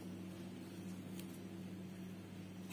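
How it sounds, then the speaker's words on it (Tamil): A small mixer grinder jar grinds raw banana pieces into a masala paste, giving a steady, even motor whir with a low hum that holds for the whole stretch and never stops. "அதில் வந்து கொஞ்சம் கொஞ்சமாக வாழைக்காயை போட்டு மிக்சியில் அரைச்சி எடுத்துப்போம்"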